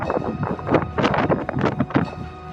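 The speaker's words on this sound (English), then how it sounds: "It's kind of windy out here." Gusts of wind batter the microphone in rough, irregular bursts of rumbling noise, loud and continuous throughout.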